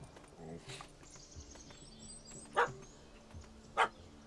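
Dog in The Witcher 3 video game gives two sharp barks, spaced about a second apart, over quiet ambient game background with faint other sounds.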